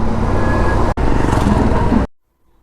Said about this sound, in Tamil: பாருங்க சுற்றி சுற்றி டிராஃபிக் தான்